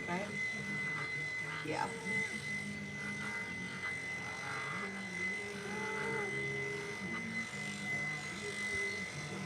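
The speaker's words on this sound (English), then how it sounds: "There's only one clipper that I feel comfortable doing a reverse line clipper with, and that's the Fuzzy Fix Blue Wave clipper" A Fuzzy Fix Blue Wave electric clipper buzzes steadily while grooming a cat into a lion cut, its hum shifting in pitch as it moves over the fur, under brief talk and background noise.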